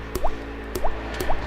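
Water drips from leaking pipe fittings in a crawlspace, three distinct plinking drops landing at an even pace about half a second apart, each with a short squishy splash.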